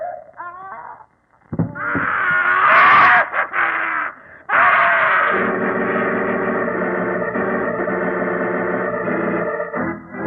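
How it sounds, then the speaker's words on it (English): A drawn-out, wailing scream in an old Sherlock Holmes radio drama, eerie and heavily processed, rising and falling in loud bursts before settling into a sustained, droning tone. "That scream?"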